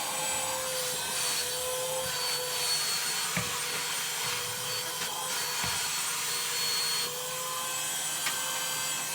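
An Auto XS cordless vacuum cleaner runs with a steady, moderately loud whine and airy hiss, with a few faint knocks and scrapes as it picks up debris.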